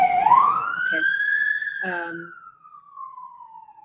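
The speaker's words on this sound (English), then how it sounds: "there's a siren going through" An emergency vehicle siren passing by in Chapala, one long rising then slowly falling wail that fades as it moves away, with a brief word spoken over it.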